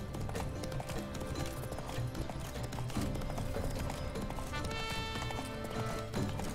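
Roach, a horse in The Witcher 3, gallops with steady rhythmic hoofbeats and an occasional whinny, heard close and continuous over a busy game music backdrop.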